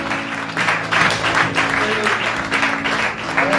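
A church congregation claps in praise of God, a dense sustained applause with rhythmic surges, a held musical tone running faintly underneath.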